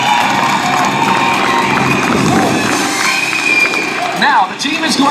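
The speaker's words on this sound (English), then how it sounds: "How about a nice round of applause for Titus and Zeke in our smoke ring competition here at Sun and" An outdoor air show crowd at Sun 'n Fun applauds and cheers after a smoke ring competition flown by a twin-aircraft display team, a dense wash of clapping, whoops and children's shouts with a voice on the public address talking over it.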